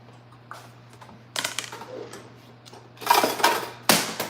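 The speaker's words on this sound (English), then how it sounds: "I am going to add a little bit of pepperoni, but I'm going to chop it up first" A big knife chops pepperoni on a kitchen mat, giving scattered soft taps that build into louder, quicker bursts of cutting near the end, close and clear with no talking.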